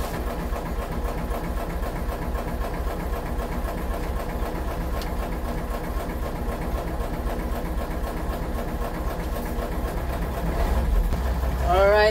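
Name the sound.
engine starter cranking and engine running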